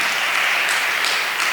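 Applause from the audience at a church youth retreat, steady and dense clapping that fills the room throughout with no break.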